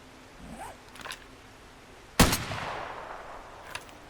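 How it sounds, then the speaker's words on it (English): A single sharp marksman rifle shot chambered in 7.62x51 fires in the video game 7 Days to Die, a loud close crack with a trailing echo, preceded and followed by faint handling clicks. "Yeah, no, it's a marksman rifle."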